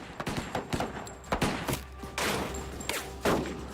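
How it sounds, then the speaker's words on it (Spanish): Gunfire in a shootout between officers and gang suspects exiting a bank vault, a dense burst of loud, overlapping shots and thuds, some clustered rapidly, with near impacts spread across the whole stretch. "Todos los sospechosos salieron de la caja disparando."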